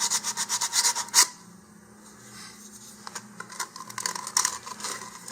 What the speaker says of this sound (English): just sand down the excess material that has been forced inward